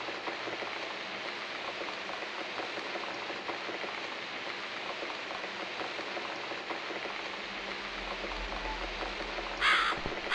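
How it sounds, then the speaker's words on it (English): A bird calls in The Cat Lady video game, heard faintly near the end over a steady, rain-like hiss of ambient noise that fills the scene. "I guess I'll need to make more effort to scare this awful bird away."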